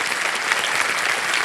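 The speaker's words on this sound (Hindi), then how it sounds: "तालियां बज जाए" Studio audience applauding on a televised quiz show, a dense, steady wash of clapping, loud and close, running throughout with no pauses.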